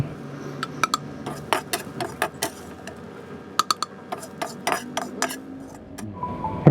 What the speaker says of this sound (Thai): หอมกระเทียมคั่วให้เหลืองๆหน่อยนะครับผม